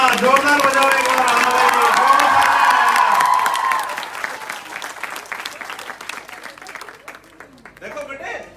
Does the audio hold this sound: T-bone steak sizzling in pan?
no